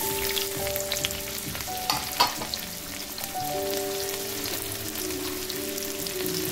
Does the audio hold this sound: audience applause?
no